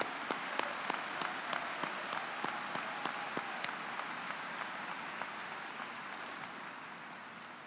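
Crowd applause at a Timberland High School 2022 graduation ceremony, steady dense clapping from a large audience with a few sharp nearby claps standing out, sustained throughout and fading slightly toward the end.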